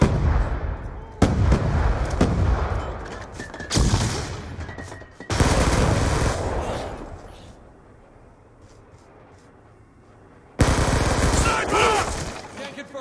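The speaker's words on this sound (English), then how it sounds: "Grenade!" Grenades burst in Call of Duty Black Ops 2 on the Nuketown 2025 map in Demolition mode: several loud, sharp blasts arrive at irregular intervals, each followed by a rumbling tail, with quieter combat noise and in-game voices in between.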